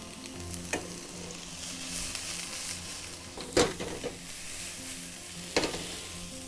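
Chopped onion sizzles steadily in a hot pan for a steak sandwich, a close, continuous crackling hiss broken by three sharp utensil clacks or scrapes as it is stirred, with no talking.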